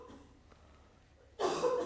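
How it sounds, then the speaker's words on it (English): A single sharp cough bursts out near the end after a quiet stretch with faint breathing. "I'm going to have to cough again."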